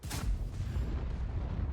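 A KV-2 tank cannon in a video game fires a single heavy, low boom at the start, followed by a deep, rumbling decay and no talk.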